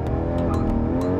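A Porsche Cayman GTS 4.0-litre engine revs hard toward the red line under full acceleration on a track, a loud, sustained, harmonically rich engine howl, close and continuous over a brief stretch.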